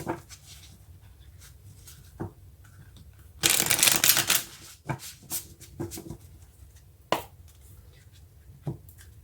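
Tarot cards shuffled by hand in a quiet room, with a dense riffling burst in the middle and scattered soft card taps and slaps around it.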